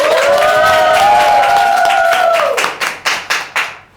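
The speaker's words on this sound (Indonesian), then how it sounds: "tepuk tangan untuk Kak Prima." Clapping at an indoor quiz game show: a sustained tone first, then a handful of loud, close, rhythmic claps that ring out in a small room.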